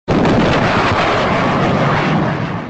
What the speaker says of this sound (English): there was a loud explosion from somewhere close by outside